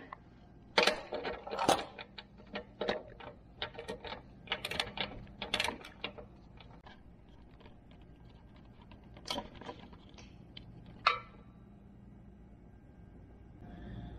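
Small tools click and rattle while torque screws are removed from a motorcycle LED tri-bar, with scattered metallic ticks and faint scraping, quiet and close, busiest early and sparser toward the end.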